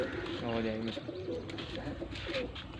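A pigeon coos softly nearby, low rolling calls mixed with people talking in the background.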